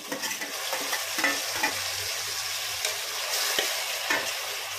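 Finely chopped tomatoes sizzle in a pan as they go in, a bright steady crackle joined by repeated stirring scrapes and light taps, close and continuous.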